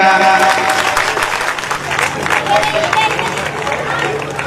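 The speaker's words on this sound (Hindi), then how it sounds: "तालियों का बिल आता है तो बजाइए खुदा रा।" A crowd at an Urdu speech event claps in dense, sustained applause that carries steadily from start to finish.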